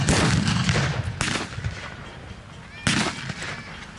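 Mortar shells land during a World War II battle reenactment at Frontline Sedgefield, amid Soviet troops, with two sharp loud blasts a couple of seconds apart over continuous rumbling battlefield noise outdoors.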